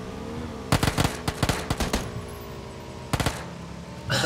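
Automatic gunfire from the video game PUBG comes in rapid bursts of sharp shots, then pauses before another short volley near the end. No talk can be heard.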